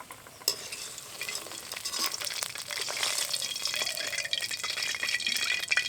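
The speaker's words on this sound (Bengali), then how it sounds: "এই ফুলকপির টুকরোগুলোকে উল্টে পাল্টে দিয়ে একদম বাদামি করে ভেজে নেব" Battered cauliflower pieces frying and being turned in hot oil until browned, giving a steady crackling sizzle with scraping stirs, close and moderately loud.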